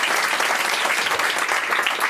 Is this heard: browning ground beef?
no